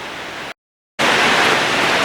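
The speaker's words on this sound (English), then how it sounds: "Sorry about the rain noise" Steady rain pours outside a shop during welding repair of bushings on a John Deere 250 skid steer loader arm, a dense continuous hiss that cuts out briefly, then returns loud and unbroken.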